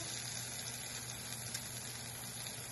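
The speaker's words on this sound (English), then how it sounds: "do you hear the sizzle?" Steady broadband sizzling hiss of vegetables frying on a hot gas tandoor, continuous and fairly quiet throughout with a low hum underneath.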